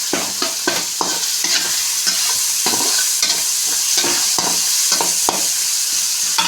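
A mashed mixture for ugani frying in a pan while being stirred hard, loud close sizzling broken by frequent quick scraping strokes of a spoon against the pan, with no voices.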